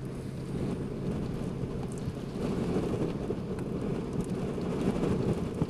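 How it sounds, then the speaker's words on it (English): Strong storm wind gusting across a highway during a May 2011 Missouri-Illinois storm chase, a dense low roaring rumble with buffeting against the microphone, steady and loud throughout with no talking. "Some major wind coming through here."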